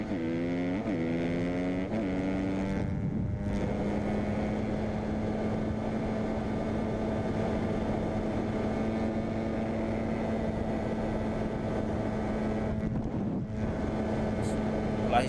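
Dirt bike engine screaming at high revs while fleeing police, with rising gear-shift sweeps at the start, then a loud steady drone under heavy wind noise, close to the microphone.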